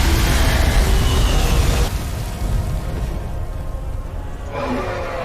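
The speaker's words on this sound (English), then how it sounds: "The dragon breaks a hole in the wall and breathes fire," A dragon smashing through a stone tower wall and breathing fire in the fantasy game Skyrim, a loud crumbling crash giving way to a long roaring whoosh of flame that fades, then swells again near the end.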